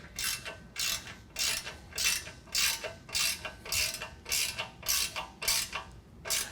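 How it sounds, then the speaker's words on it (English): A ratchet wrench tightens M10 bolts on a Jeep Wrangler JK rear bumper, giving about a dozen rhythmic clicking strokes at a steady pace, close and clear, with no talking. "Now we're going to tighten that M10 hardware."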